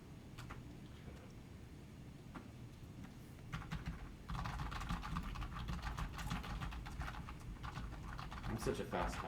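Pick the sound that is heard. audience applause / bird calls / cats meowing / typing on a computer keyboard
typing on a computer keyboard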